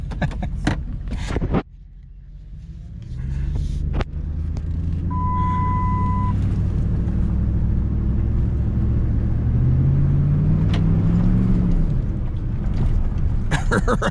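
Pickup truck engine on a test drive, a deep rumbling drone that swells and climbs in pitch as it revs, loud and close after a brief pause near the start.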